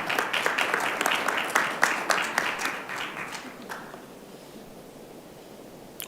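Applause breaks out at a Wheat Ridge city council study session, a room of clapping hands that stays fairly steady, then thins and fades over the last seconds.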